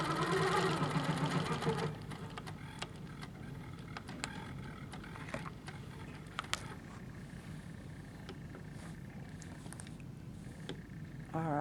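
A quilting machine with a hopping foot stitches along a seam of a quilt, guided by a ruler, giving a loud mechanical whir at first, then quieter steady running with light clicking ticks.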